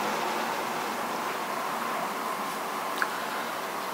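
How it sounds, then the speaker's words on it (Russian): Street noise and wind outside a bedroom on a hot day form a steady, faint broadband hiss with no distinct events. "Вы слышите шум улицы и шум ветра."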